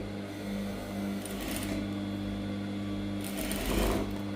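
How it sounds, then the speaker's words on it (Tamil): Sewing machine stitching the lining of a saree blouse, running close by in a steady buzzing whir with a couple of louder mechanical surges as stitching speeds up. "அப்படியே லைனிங் பக்கத்தில் தையல் போட போகிறேன்"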